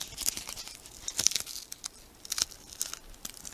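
Tape being peeled off the blade of a Cold Steel Voyager knife, a close series of short crackling rips and crinkles in uneven bursts, with no talking.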